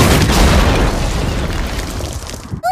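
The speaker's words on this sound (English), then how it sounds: "It's a little explosion down in the field?" A small explosion goes off in a field, a loud broadband boom that fills the clip and slowly decays into rumbling noise before cutting off near the end.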